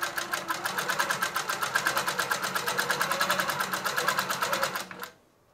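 A Grace Q'Nique 21 Pro longarm quilting machine stitches binding onto a quilt still on the frame, giving a fast, even rhythmic chatter of needle strokes close by before stopping abruptly near the end.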